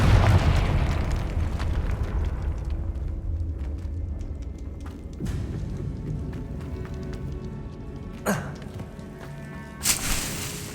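A Confringo fire spell in the Hogwarts Legacy video game erupts in a loud opening boom that rumbles and fades over several seconds, followed by two sharper bursts near the end.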